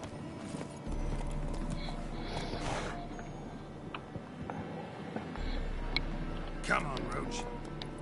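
In The Witcher 3, the horse Roach gallops in a rhythmic run of hoof clip-clops beneath a steady low game hum, while someone talks quietly over it.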